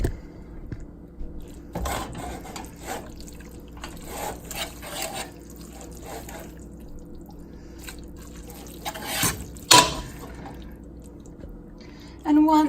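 Spaghetti being stirred together with sauce in a pan, wet squelching and sloppy drips in irregular bursts, close up, with a sharper clink near the end.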